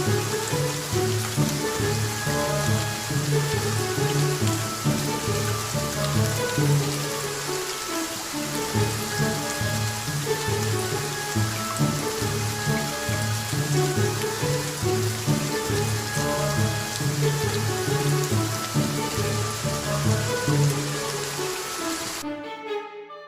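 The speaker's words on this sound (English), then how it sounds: "used something to cover their heads from the rain like humans do" Steady rain pours at the London Zoo gorilla enclosure, a dense continuous patter of drops on surfaces holding even and loud throughout before cutting off at the very end.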